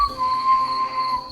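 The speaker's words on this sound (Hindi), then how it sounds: "फिर हल्की सी सीटी बजाई" A soft, steady whistle held for just over a second, faint and breathy, at a bedroom window at night, with no voices around it.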